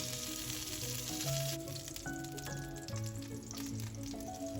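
Zucchini frying in a few spoonfuls of oil in a pan for an Aegean dish, a faint continuous sizzle with light crackle, heard under soft background music.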